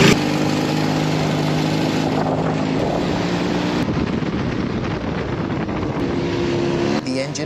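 A small homemade airplane's engine runs with a steady, loud droning roar and propeller hum close by, its pitch shifting slightly as it settles into a continuous run.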